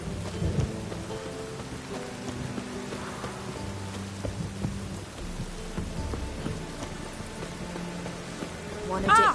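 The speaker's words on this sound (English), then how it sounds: "Rain will cleanse the city streets." Steady rain pours with rumbles of thunder beneath it, a dense continuous wash of noise with other low tones and brief sounds mixed in.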